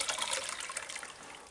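Water sloshes and splashes in a wash basin as organic material is rinsed off gem-bearing gravel, an agitated back-and-forth swirl that starts strong and eases off.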